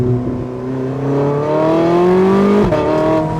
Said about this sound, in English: I will give it a little bit of throttle here.